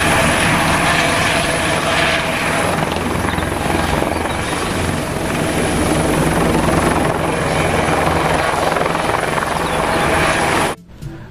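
A toy helicopter gives off a loud, close, continuous whirring rotor-and-engine drone that holds steady for about ten seconds before cutting off abruptly.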